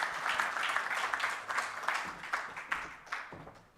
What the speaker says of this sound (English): And now a round of applause, please